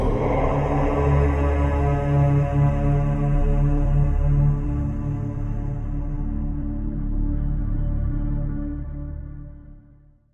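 Sacral chakra mantra Vam chanted as a single long, steady low vocal drone with dense harmonics, held for roughly ten seconds and slowly tapering off at the end, with no accompaniment.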